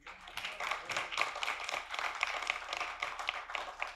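An audience at a panel event applauds, giving a soft, moderately distant patter of many hands clapping steadily throughout.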